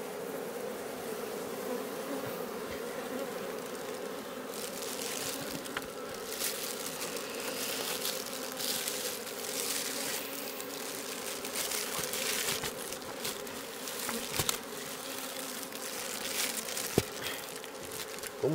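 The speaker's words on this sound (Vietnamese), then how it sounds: "Một phần là do mình đang đánh vào cái thời điểm mà ong nó đang đi làm mạnh." Wild honeybees swarm and hum around their nest during a busy foraging period, a steady dense buzz that persists throughout, with individual bees passing close now and then.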